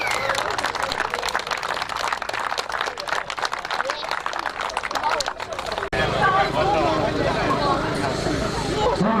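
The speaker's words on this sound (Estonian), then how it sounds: "Kõva aplaus kõigile võistlejale." Crowd applause for young motocross competitors at an Estonian championship round, dense clapping heard through a public-address voice, then the applause fades into crowd noise and background sound.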